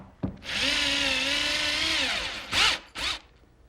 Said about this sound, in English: a number 6 by 1¼ screw that I'm putting in a pre-drilled hole